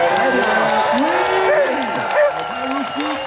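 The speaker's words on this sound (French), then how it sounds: "Ça applaudit." Spectators applaud and cheer at a paragliding festival takeoff at the Coupe Icare airshow, a crowd murmur and clapping sitting beneath prominent close-up commentary voices that talk throughout.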